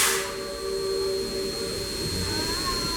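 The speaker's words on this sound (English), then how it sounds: "Unless it's echoes from this train because it's the exact same whistle." A steam train whistle on a Roaring Camp mountain railway holds a steady tone under a bed of hissing steam and rumble, sustained for the whole stretch without talk.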